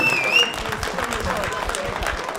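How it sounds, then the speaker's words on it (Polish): Audience applause at a slapfighting gala, a dense, steady patter of crowd clapping that runs throughout, with a voice talking over it. "ogromne brawa i szacunek dla nich"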